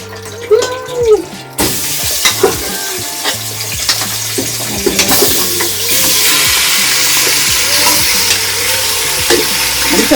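Oxtail drops into a hot rice-and-peas pot for a Jamaican Sunday dinner and breaks into a loud, steady sizzle that builds and holds. Clanks and handling knocks come just before it.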